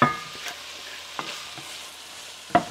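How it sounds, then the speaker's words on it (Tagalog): Garlic being stirred in a hot pan while cooking lumpia filling gives a faint, close sizzle, with a few sharp utensil scrapes and clacks at the start, around the one-second mark and near the end. "I-add ko na rin yung garlic para matapos na."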